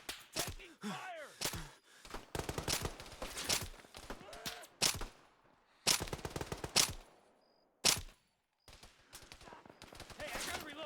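Rapid bursts of gunfire in a heavily modded tactical shooter video game, with repeated automatic volleys and sharp single shots spread across the clip, loud and close, broken by brief gaps and some shouted voices.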